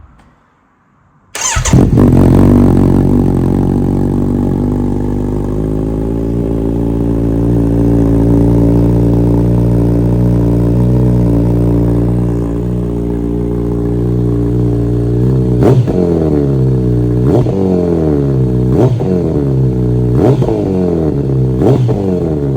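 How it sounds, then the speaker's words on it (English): A Kawasaki Z900RS motorcycle, unstarted for about three weeks, cranks and fires into a loud, steady idle that settles over several seconds, then a series of sharp throttle blips rise and fall in quick succession near the end. "I haven't actually started this bike in around 3 weeks, so I'm actually quite excited to hear it myself."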